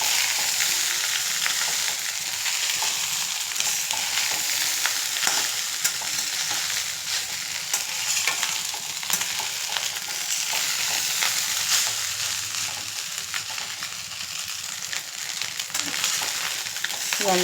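Egg fried rice being stir-fried in a pan, restaurant style, with a steady bright sizzle and frequent scraping and tossing of the rice throughout, close and continuous with no talking.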